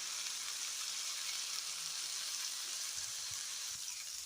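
Small sardines frying in a light amount of oil give a steady, close hiss and crackle that holds evenly throughout, with a few soft low knocks underneath.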